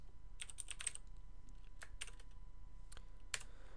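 Soft computer keyboard typing while coding in Java: quick clusters of light key clicks, then scattered single presses and a firmer final tap, close and quiet over a faint steady hum with no talk.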